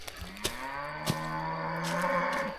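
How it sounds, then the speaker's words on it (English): Cattle low in a rural African village, a long drawn-out moo rising and holding near the listener, with a few faint knocks in the background. "Our cows."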